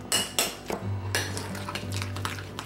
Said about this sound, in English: about 2 tablespoons of mayonnaise. You just want to mix this together well.